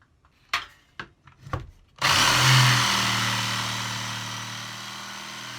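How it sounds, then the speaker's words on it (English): A handful of sharp wooden knocks and taps, then a jigsaw starts cutting wood for a steampunk wood-burning shed stove, a loud close continuous buzzing whine that slowly eases off, with no talking. "Get my jigsaw out."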